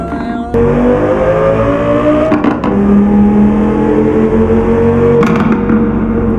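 Audi car with a popping, crackling modified exhaust in Euro Truck Simulator 2, droning loudly and steadily as it accelerates, the pitch climbing with sharp crackles at moments.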